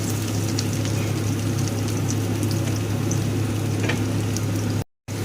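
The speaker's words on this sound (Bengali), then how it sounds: "রসুনটাকে ভালো করে ভেজে নেব।" Minced garlic frying in leftover oil for chicken 65, a steady close sizzle with fine crackles throughout, cutting out briefly near the end.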